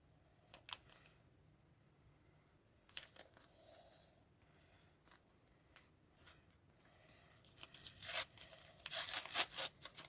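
A paper surprise packet with perforations is torn and crinkled up close in quiet, soft bursts of rustling and ripping that grow busier and louder toward the end.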